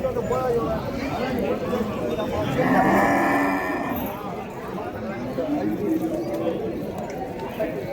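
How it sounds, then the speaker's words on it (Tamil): Dairy cow from Gudiyatham at the Vaniyambadi cattle market, a single loud mid-length moo rising out of a crowd, with people chatting and talking nearby throughout. "ஸோ குடியாத்துலேருந்து கொண்டு வந்திருக்காங்க கறவை மாடு"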